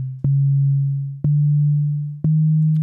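Synthesized tones generated in Sonic Pi from a ramp ring: three clean sine-like notes, each with a sharp click at the onset and a gradual fade, stepping slightly upward in pitch at an even one-second rhythm.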